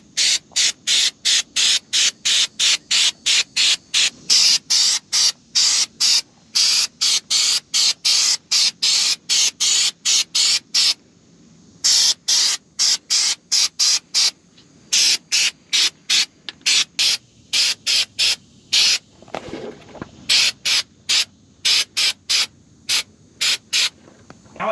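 Heavy-duty rubberized undercoating sprayed under an old GMC motorhome in rapid, regular bursts of loud hissing, each spurt short and separated by brief gaps, close to the nozzle with no voices.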